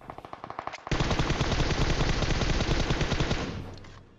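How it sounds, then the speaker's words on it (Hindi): Automatic gunfire in PUBG Mobile: a few rapid separate shots, then a loud, continuous burst of fire lasting a few seconds before it fades out. "इस बार घुस के ही गोलियां चलाएंगे सीधा"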